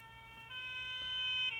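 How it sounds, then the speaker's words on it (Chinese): A fire engine siren played from a children's sound book holds a steady electronic wail that swells slightly louder, with no speech over it. "警报器的声音"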